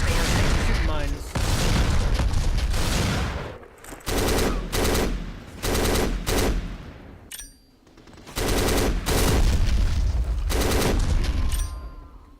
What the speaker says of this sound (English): So you can just shoot all the mines from here that you can clear out the minefield, because mines will set other mines off.